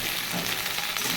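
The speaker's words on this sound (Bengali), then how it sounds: "একটু ভেজে নেব।" Onion greens and garlic greens fry in a hot pan on a gas stove, giving a short burst of dense, even sizzling close by.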